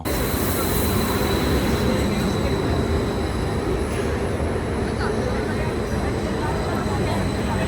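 Steady rumble of an airport train in Oslo heard from inside the carriage while riding, a continuous loud low roar of wheels and motion with faint high tones above it.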